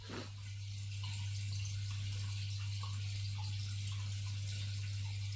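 Steady water in an outdoor backyard bathtub in winter as someone gets into warm water after a long cold soak, a continuous close sloshing and trickling wash with a strong low hum beneath and no talking.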